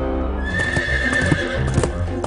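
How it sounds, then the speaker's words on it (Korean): Story sound effect of a long-horned horse whinnying, a clear, loud neigh held for about two seconds, with hoof clip-clops beneath it and no voices. "마을을 엉망으로 만드는 긴 뿔이 달린 말도 꾀를 내어 혼쭐을 내줬죠"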